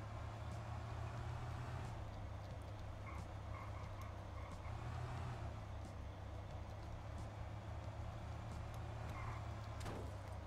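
A car driving in the game Thief Simulator, its engine drone a steady low hum throughout with faint ambient chirps above, no talk.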